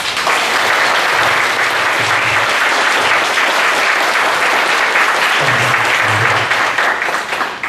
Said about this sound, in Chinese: 那我们用一个掌声，用极大力的掌声赞美我们神，